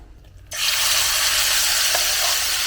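Hot peanut oil bursts into a loud, sizzling hiss in a pan after a short quiet moment, then keeps frying steadily and close, with a couple of faint clinks.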